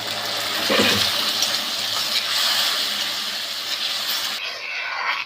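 Water gushes and splashes steadily into a pan of jaggery for several seconds, a continuous close rushing pour that cuts off near the end.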